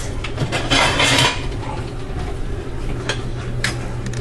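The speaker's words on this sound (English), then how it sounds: "So, let me get a plate." Plates and dishes clink and clatter close by as one is taken from a stack in a home kitchen, a brief burst of knocks followed by a few lighter scattered clicks.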